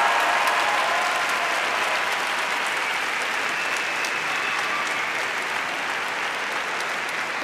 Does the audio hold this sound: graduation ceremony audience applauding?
yes